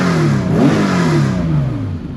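A Nissan Skyline with headers and a muffler revs loudly up and down, its engine note rising and falling over a couple of seconds, heard close from inside the car.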